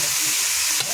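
Food fries in a pan with a continuous loud sizzle, broken near the end by a brief scrape of stirring.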